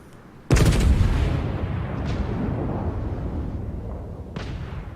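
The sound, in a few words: naval gunfire in World of Warships video game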